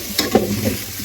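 Curry frying in a multi cooker: a brief close scrape of a spoon stirring over a continuous sizzle.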